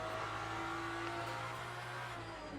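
An Aston Martin Valkyrie engine in a racing sim drones with a steady, sustained high-pitched hum, held at an even pitch at moderate distance, with no talk over it.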